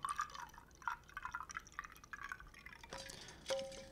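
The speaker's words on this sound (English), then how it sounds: "pour the iced coffee in here" Iced coffee pouring from a Zojirushi coffee dispenser into a glass over ice: quiet, irregular trickling and dripping with small splashes and faint clinks, close up, ending in a brief higher-pitched fill sound.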